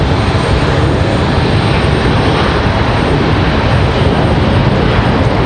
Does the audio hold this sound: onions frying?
no